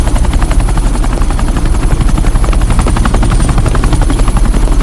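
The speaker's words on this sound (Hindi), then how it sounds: "ये हेलीकॉप्टर सीधे एयरपोर्ट के टारमैक पे लैंड होगा।" A helicopter flies in to land on an airport tarmac, its rotor thudding in a loud, steady rapid chop with heavy low rumble, close and continuous throughout.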